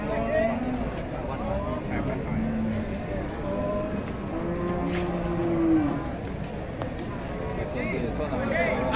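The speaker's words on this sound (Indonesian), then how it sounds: "kita sambung ke sapi miliknya Pak E" Cattle in a shed give several drawn-out moos, some near and loud, others softer, while people talk over them throughout.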